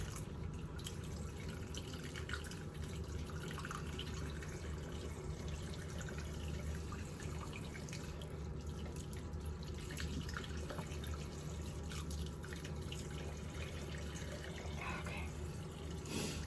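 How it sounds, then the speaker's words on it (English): Cold water runs steadily from a tap over hair extensions being rinsed of orange temporary dye, a continuous close hiss and splash with small drips and handling sounds throughout. "So I'm just rinsing with cold water."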